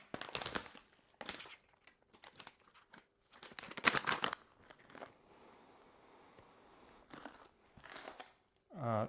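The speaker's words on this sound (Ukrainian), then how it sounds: "Пакет зараз відкриваю вперше" A coffee bag being opened for the first time: crinkly plastic rustling and crackling in several bursts, close by, with quieter handling noises in between and a sharp rustle at the end.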